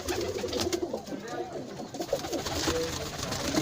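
Pigeons coo softly and repeatedly amid a noisy, crowded background, with some talking mixed in.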